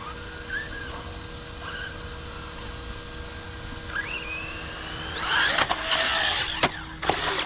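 A Rlaarlo Rogue One 3S mini RC car pulls a wheelie on a pump track, its electric motor whining and rising in pitch, then a louder burst of buzzing motor and clattering at close range.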